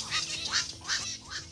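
Repeated harsh, raspy "kwak" calls of a night heron, about four croaking notes at a steady pace, fairly close and alone.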